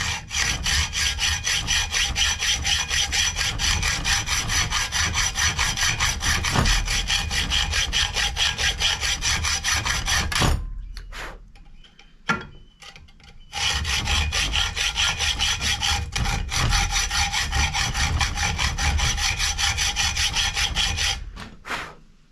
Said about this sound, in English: I keep tilting my saw back and forth like that so it cuts it wide enough for the screwdriver